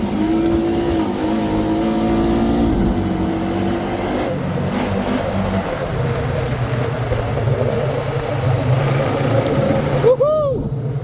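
Honda Rancher ATV power sliding through a turn on a trail at about 25 mph, engine droning and revving loudly throughout with tire and dirt noise, a voice heard briefly near the end.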